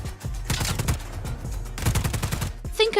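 Enemy gunfire in the action game Just Cause 4 as rapid bursts of shots crackle and thump in quick succession amid a dense battle din, with a voice faintly under the noise.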